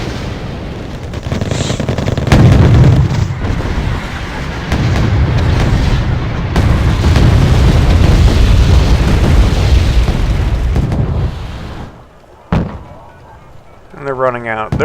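Video game battle with enemy artillery being destroyed: dense, continuous rumbling booms, explosions and gunfire, loud and sustained, then a brief lull before more blasts and a rising warbling effect at the end.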